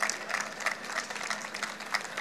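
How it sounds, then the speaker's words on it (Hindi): Audience applause for a poet at a mushaira at Shahi Qila, Lahore: steady, dense clapping from a crowd, moderately loud and continuous throughout. "आपकी भरपूर तालियों में"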